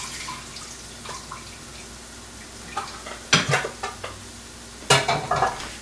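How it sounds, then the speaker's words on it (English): Water drains from thawed shrimp with a soft running trickle and scattered drips, then louder splashing bursts as the container is tipped and shaken. "My shrimp's been unfreezing, so I really need to drain this."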